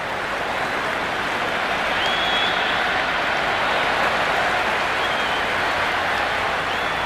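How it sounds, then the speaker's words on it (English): Cricket stadium crowd in Cricket 26, playing India against the Netherlands at the T20 World Cup, cheering and applauding in a loud, continuous roar with a faint voice beneath. "It's the most enthusiastic crowd you could ever see right now. There's a buzz, a real buzz coming from the stands."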